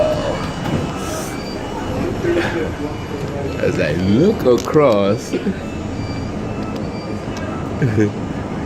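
An NYC subway A train rolls past on the express track with metallic squeals and creaks over a rumbling undertone. A person talks over it throughout.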